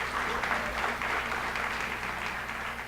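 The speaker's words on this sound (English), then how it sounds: "Please give yourselves a huge round of applause for the work that you do." An audience at the 2017 Cammy Awards, a community media celebration, claps in a thick, sustained burst of applause from a large crowd in a hall, loud and even for the whole stretch with a faint voice underneath.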